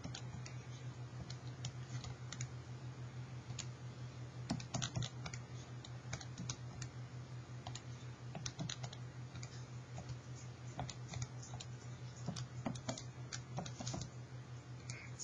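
Typing on a computer keyboard, soft scattered key clicks in irregular bursts over a low steady electrical hum, faint and close.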